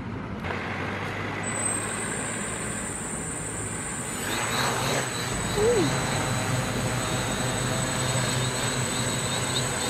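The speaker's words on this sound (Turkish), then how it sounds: "Drone'un ilk uçuşu öncesi son vidası. Artık test uçuşumuza geçebiliriz." A Pixhawk-controlled hexacopter drone on its first test flight spins up into a steady, high-pitched motor whine over broad rushing rotor noise, holding loud and even throughout.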